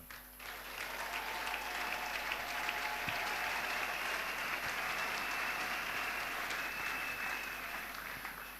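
A church congregation applauds to acclaim the Lord during a worship gathering. The dense, sustained clapping swells in, holds steady for several seconds, then tapers off at the end.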